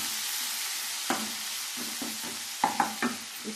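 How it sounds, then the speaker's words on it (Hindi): Finely chopped tomatoes sauté with fried spices in a pan for an aloo matar curry, a steady sizzle broken by several sharp knocks and scrapes of a spoon stirring. "टमाटर को भी इनके साथ अच्छे से मिक्स कर लेंगे"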